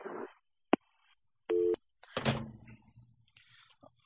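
Telephone line tones on a radio call-in phone line right after a caller is cut off: a short tone, then a longer steady beep, followed by quiet room sound and faint talk.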